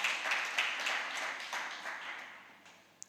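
A church congregation at a Sunday service applauds together, a broad wash of clapping that swells at the start and gradually fades, with no talk over it.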